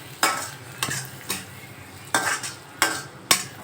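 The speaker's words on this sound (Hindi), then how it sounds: "अब इसको मैं थोड़ी देर पकाऊंगी, ज़्यादा नहीं, बस 5 मिनट पका दूँगी" Paneer cooking in masala in a pan, with a low sizzle under rhythmic scraping strokes of a spoon against the pan, about seven distinct stirs at a steady pace, close by.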